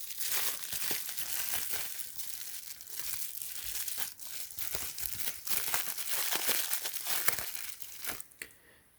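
Crinkly bubble wrap packaging with a box logo sticker, handled up close during a cosmetics lip gloss kit unboxing, giving continuous crackling, crumpling rustles with brief tearing-like bursts.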